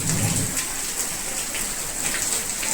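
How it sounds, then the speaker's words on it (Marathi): Steady, dense monsoon rain hiss fills the whole stretch in the Konkan, a constant wash of falling drops with no voices. "तर या पाऊस काय कमी होत नाही"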